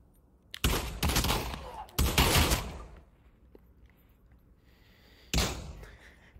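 Two long bursts of automatic rifle fire in the VR shooter Pavlov VR, then a quiet stretch with faint mechanical clicks before a third short burst; no one speaks.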